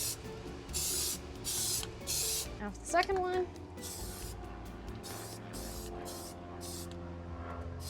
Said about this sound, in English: while that spray paint is drying